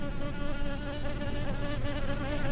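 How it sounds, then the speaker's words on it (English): Bees buzz around flowering Thai basil in a garden, a dense, continuous close-up drone with a wavering pitch and no voices. "And the bees love Thai basil."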